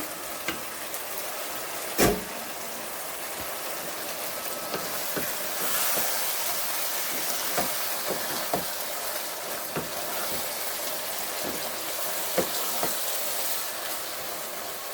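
Potato pieces and spices fry in hot oil for a fish curry, a steady bright sizzle with occasional soft knocks from stirring, close and fairly loud.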